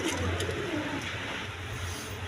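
Pigeons, including chicks and birds sitting on eggs, coo softly in a pigeon dealer's loft, a faint low burble near the start under a steady background hiss.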